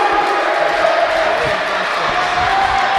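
A school varsity volleyball crowd between Harvest Christian Academy and Schaumburg Christian cheers steadily in a gym, loud and sustained without break.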